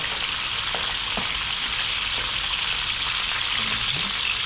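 Freshly caught prawns fry in a pan, giving a steady, loud sizzle with faint stirring scrapes and no talk.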